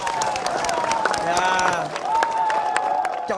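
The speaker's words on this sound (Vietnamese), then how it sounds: "Xin quý vị một tràng pháo tay nữa để ủng hộ tinh thần." A studio audience at a Vietnamese game show breaks into sustained applause and cheering, dense clapping filling the room throughout with a host's voice audible over it.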